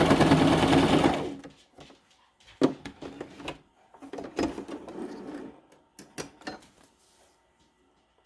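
A sewing machine runs a continuous burst of stitching while sewing a secondary seam beside the elastic on a fabric face mask, then it stops and a few scattered handling clicks and taps follow.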